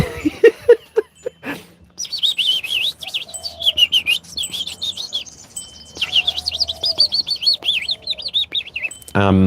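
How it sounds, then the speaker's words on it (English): Little blue fairy wrens chirp in quick, high trilling bursts close by, with rapid repeated tweets coming in two long runs after a brief spoken opening. "They are the little blue fairy wrens"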